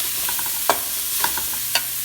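Green beans stirred into onions frying in a pan for paneer fried rice, a steady sizzle with a few sharp scraping stirs of the spatula, close and alone.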